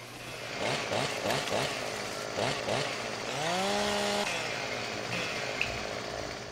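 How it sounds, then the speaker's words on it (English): A chainsaw cuts into a tree on a farm in Sosnovka, running at a fairly low level with a rhythmic rising-and-falling whine that settles into a long sustained cutting note before easing off. No one speaks. "chainsaw is noisy"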